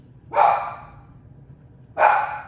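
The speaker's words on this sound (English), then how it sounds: "Sorry about the dog." A dog barks twice indoors, each a single sharp, fairly loud bark about one and a half seconds apart, over quiet room tone.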